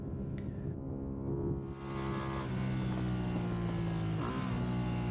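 Ducati Panigale V2 on a track day running down through the curves toward a hairpin, its engine a steady droning whine that rises after a brief dip, heard from on board with no voices.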